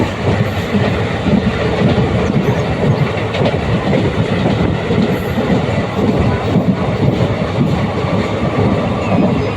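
A passenger train on the Tiruchirappalli to Puducherry line runs at high speed, a loud, continuous roar of wheels and rushing air with rhythmic rattling, heard close from onboard without a break.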